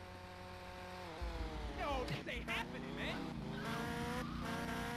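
A car in GTA Vice City pulls away, its engine revving and whining upward with a brief tire squeal, heard under people talking over game sounds.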